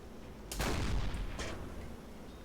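Gunfire in the Silent Hunter IV naval game: a single heavy, booming shot, then a fainter second report a moment later, fairly distant and with no talk over it.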